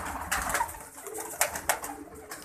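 Pigeons coo from a pair kept in a loft, giving soft, low, repeated coos at close range, with a few brief rustles and flutters mixed in.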